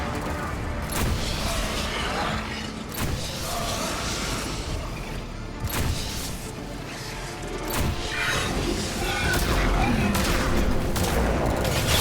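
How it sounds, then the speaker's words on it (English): Rapid volleys of heavy sci-fi weapon fire and booming impacts from sniper rifles and rocket launchers in a Mass Effect 3 battle, dense and continuous throughout with crashes layered over a steady loud din. "Those sniper rocket launcher shots, because that's what those things do."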